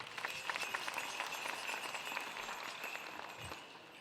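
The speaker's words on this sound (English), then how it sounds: "So let's give him a round of applause." An audience at a Lumbee Days cultural presentation claps in a fairly faint, even round of applause that holds steady and begins to fade near the end.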